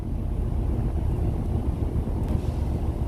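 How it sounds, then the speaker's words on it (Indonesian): Truck engines idle beside a sand-unloading ship in Taiwan while the ship's crane hums behind them, blending into one steady, heavy low rumble that holds evenly throughout with no voices. "Mesin truk tetap menyala, mengeluarkan suara berat yang terpadu dengan dengung kren kapal di belakang mereka"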